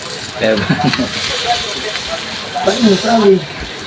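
Butter sizzles in a pan while seafood lunch is cooked, a hissing crackle running under lively overlapping voices.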